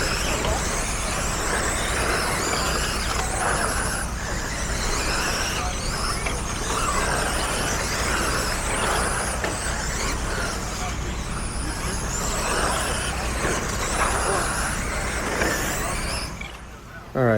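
A car runs laps on a track, heard as a steady, loud broadband drone of engine and road noise that holds throughout, with a voice talking over it.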